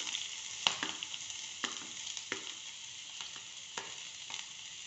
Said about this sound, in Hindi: और ये तेल हमारा गर्म हो गया है, और इसमें मैं डाल रही हूँ जीरा। और जीरा भूनते ही हम डालेंगे पत्ता गोभी।